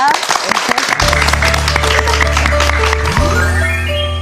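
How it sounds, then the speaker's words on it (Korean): An audience applauds to welcome a speaker at a talk on parenting, a steady clapping that continues under music which swells in about midway. "오은영 선생님의 꿈과 끼를 키우는 법 두 번째 이야기 큰 박수로 청해 듣겠습니다"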